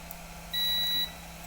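A multimeter on its buzzer continuity range gives a single steady electronic beep lasting about half a second, clear and close over a faint hum, while a Realme 7 Pro phone board is being checked for a shorted capacitor.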